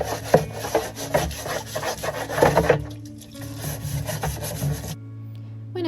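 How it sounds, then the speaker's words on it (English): Hay buckets being scrubbed by hand, with repeated rough, rhythmic rasping strokes that are close and fairly loud. A quieter pause follows, and then the strokes stop as a low hum continues. "it was time for me to go back to scrubbing the hay buckets"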